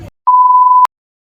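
A loud censoring beep sounds as a single steady pure tone lasting about half a second, starting and stopping abruptly, with a short burst of sound just before it.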